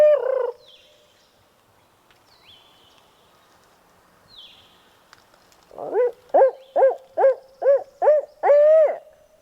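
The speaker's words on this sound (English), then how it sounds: "a bird gobbled right up here on this knob" A wild turkey gobbles in a rapid run of repeated warbling notes, loud and fairly close on a knob in Virginia woods, after a quieter stretch with faint distant calls.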